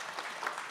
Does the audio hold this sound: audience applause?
yes